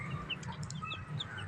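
Chickens and roosters clucking and calling in a poultry yard, with several overlapping short calls and chirps over a steady low background.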